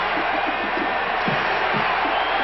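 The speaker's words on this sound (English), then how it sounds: "Crowd on its feet." A stadium crowd roaring at an Eagles at Atlanta football game, a dense sustained cheer with scattered shouts and whoops, heard from a distance across the whole stretch.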